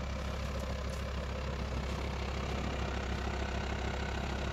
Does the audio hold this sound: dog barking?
no